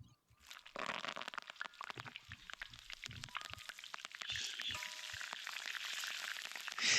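Crackling, spattering sizzle of kale frying in hot oil, steady and close, with scattered pops throughout.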